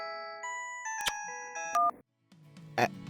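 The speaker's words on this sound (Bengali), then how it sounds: "কর্মকর্তা বাবু ফোন করছেন" A telephone rings in a Bengali cartoon: clear electronic ringtone notes in short melodic bursts, then a brief silence and a few more tones.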